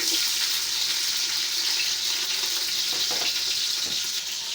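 Chopped onions fry in hot oil in a pot for Ogbono soup, making a loud, steady, close sizzle with a few faint stirring clicks and no talking.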